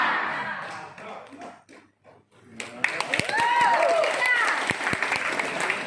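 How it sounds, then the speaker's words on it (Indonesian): An audience claps together, starting with scattered claps and a sharp hit, then swelling into steady, fairly loud applause after a brief quiet gap, with a voice speaking over the start. "Ada lagi dari tadi kita tepuk tangan tapi nggak bagus-bagus nih karena belum ada kompak"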